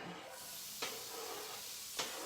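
Onions hit a hot skillet with a close, steady sizzle and hiss of frying, broken by two brief louder crackles as the pieces settle in the pan.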